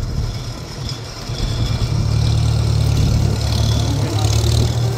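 A Farmall M tractor engine runs with a steady low, throbbing idle that grows slightly louder and fuller, close by, before heading out to disc a field.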